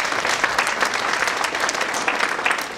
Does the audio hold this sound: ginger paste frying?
no